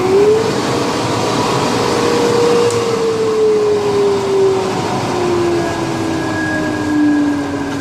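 A Delta 50-767 dust collector runs steadily with its hose attached, a loud continuous motor roar and airflow whine whose pitch slowly drifts as the suction pulls on the hose.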